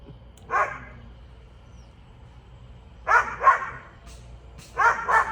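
Sparse barking from a dog at a distance: a single bark, a long pause, then quick pairs of barks over low background noise.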